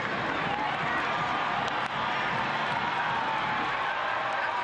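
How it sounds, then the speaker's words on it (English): A stadium crowd roars continuously at a Tampa Bay Rowdies versus Pittsburgh Riverhounds soccer match, a broad, distant wash of cheering that holds steady throughout, with a commentator's voice over it. "The crowd just comes to life every time he touches it."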